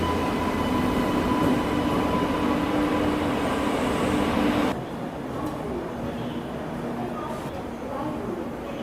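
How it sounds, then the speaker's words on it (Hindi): The Rewa Rajkot Express pulls into a station platform with a loud continuous rumble of wheels and carriages, a steady metallic drone under someone talking, easing somewhat partway through. "और ये अराइवल हो रहा है रीवा राजकोट एक्सप्रेस का।"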